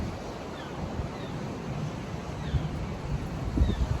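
Outdoor wind buffets the microphone with low rumbling gusts over a constant broadband rush, growing slightly stronger near the end.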